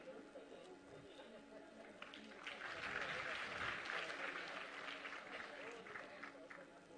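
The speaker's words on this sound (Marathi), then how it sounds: "जोरदार टाळ्यांचा वर्षाव होत राहू देत मंडळी आपल्या सर्व मान्यवर महिलांसाठी." Sustained applause from an audience honouring women at a Women's Day ceremony in Maharashtra, a steady crowd clapping that swells in the middle and carries on at moderate distance.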